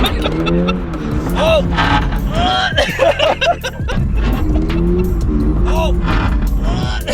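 A car drifting with the e-brake pulled, its engine revving hard with loud, sustained rising and falling pitch and tires squealing through the slide, while a man exclaims and laughs over it.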